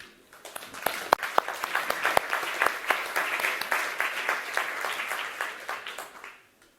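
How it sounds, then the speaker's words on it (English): Audience applause at a business conference session, a crowd clapping with some sharp individual claps standing out, building quickly and holding steady before tapering off near the end. "I kindly ask all of you to join me in a round of applause for our honorable speakers"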